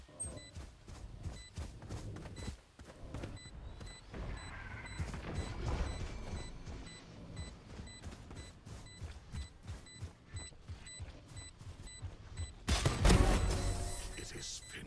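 Gunfire from the shooter video game Valorant rattles off in rapid, repeated bursts of sharp shots at moderate level, ending in a louder crashing burst near the finish.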